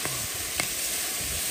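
Star anise, added after caramelised sugar and bean paste, sizzles and fries loudly in a hot wok, a constant close hiss with a faint stirring scrape.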